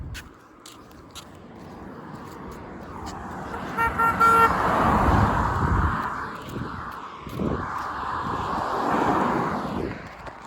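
A passing car on the road gives a short toot of its horn amid engine rumble and traffic noise, the vehicle sound swelling loudly nearby before easing off.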